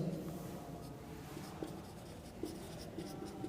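Chalk or marker writing on a board during a lecture, faint scratchy strokes with a few sharper taps, heard close in a quiet room with no talk.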